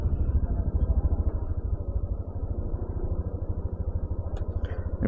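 Motorcycles of a group of eight riders motocamping near Masinloc, Zambales, a close, steady low engine rumble with a rapid pulsing throb that swells and eases, ending with a brief clatter.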